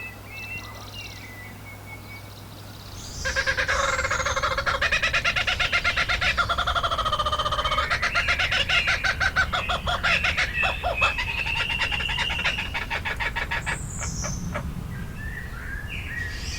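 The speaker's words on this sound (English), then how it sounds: "That's the unmistakable laugh of Australia's iconic Kookaburra." An Australian kookaburra gives its laughing call. The loud, rapid cackling chorus starts abruptly, rises and falls in rhythmic bursts for over ten seconds, then fades into softer calls, with faint birdsong before it.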